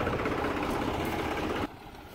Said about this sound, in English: he has the tractor here